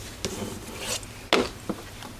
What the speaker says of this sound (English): Open that up and burnish that piece down.